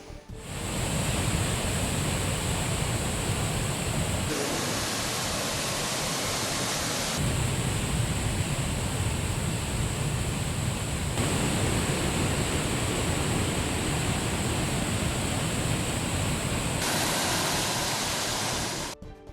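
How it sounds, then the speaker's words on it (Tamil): Floodwater roars steadily over a waterfall on a swollen forest river, a loud continuous broadband rush with no pauses and no voices. "பிள்ளையார் நீர்வீழ்ச்சியில் தண்ணீர் ஆர்ப்பரித்து கொட்டுகிறது"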